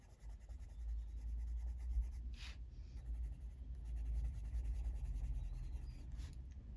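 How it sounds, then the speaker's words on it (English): A Holbein coloured pencil scratches steadily across paper, soft close strokes in a continuous rhythm with a couple of brief sharper scrapes, very quiet. "I'm gonna go over them all with this Holbein pencil to start with"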